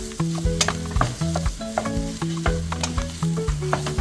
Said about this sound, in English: And we stir it.